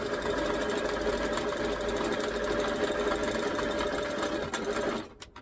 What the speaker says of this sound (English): I'm going to sew all these